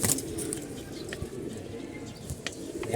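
Pigeons murmur with soft, low cooing in a loft, a steady close-up burble with occasional faint rustles and chirps over the background.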